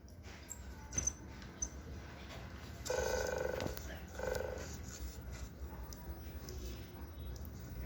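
A desktop robot pet called EMO imitates a horse with a brief electronic whinny-like burst followed by a shorter, softer one, fairly faint against room noise.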